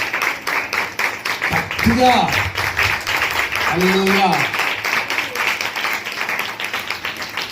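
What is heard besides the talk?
church congregation clapping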